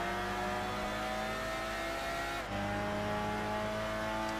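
A race car engine in the video game Gran Turismo 6, droning at high revs with steady tonal whine, a brief dip mid-way as it shifts, then pulling again, loud and continuous.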